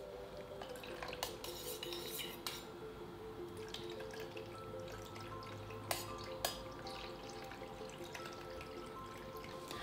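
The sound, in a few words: mixing vinegar into a homemade cleaning spray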